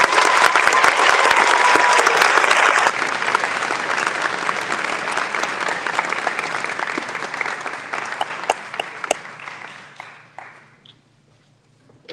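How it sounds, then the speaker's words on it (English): An audience at a school awards ceremony claps in sustained, dense applause that gradually thins into scattered individual claps before fading out. "We applaud all three of you for your service to the community."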